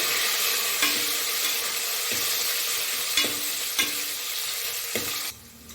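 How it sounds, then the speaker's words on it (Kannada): Onions sizzle in hot oil in a pan, a loud continuous crackle with a few stirring scrapes, then the sizzle drops off at the end. "ಈಗ ಈರುಳ್ಳಿಯನ್ನು ಹಾಕ್ಕೊಳ್ತಾ ಇದ್ದೀನಿ ಈರುಳ್ಳಿನ ಒಂದೆರಡು ನಿಮಿಷ ಉಟ್ಕೋತಾ ಇದ್ದೀನಿ"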